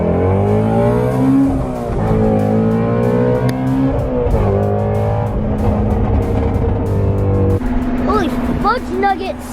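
Ford Mustang GT350 V8 engine revs hard nearby, a loud sustained growl with rising and falling pitch, a brief dip and renewed pull, then a shift near the end where a voice speaks over the engine.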